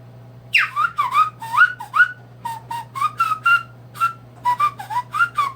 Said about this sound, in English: And I can also whistle like this.